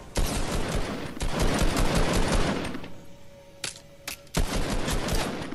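Dense automatic gunfire in Fortnite during a duo match, bursts rattling nearly nonstop, pausing briefly around the middle with a thin tone and scattered sharp shots before a heavy burst resumes at close range.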